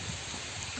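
Rain falling steadily through the forest on a mountain peak in Wayanad, a dense even hiss of drops on leaves, close and unbroken.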